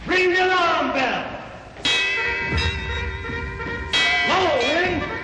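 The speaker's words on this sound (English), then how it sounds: "Ring the alarm bell!" An alarm bell in a 1937 film clangs loudly in three separate struck bursts, each ringing out and decaying, with no talk over it.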